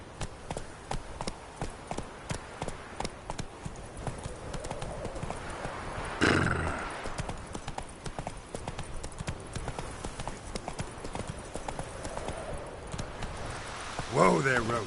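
Horse hooves clip-clop in a steady walking rhythm in The Witcher 3, with a horse neighing partway through and a rider's voice speaking over the hoofbeats.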